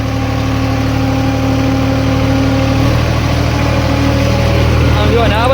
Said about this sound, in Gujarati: એક જ વાડીમાં બંને ટ્રેક્ટર ચાલી રહ્યા છે